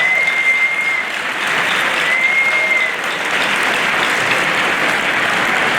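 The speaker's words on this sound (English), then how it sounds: "Give the staff here a big round of applause." A school assembly audience gives staff a big round of applause, sustained steady clapping from a crowd with a faint high tone briefly ringing over it, continuing evenly for several seconds.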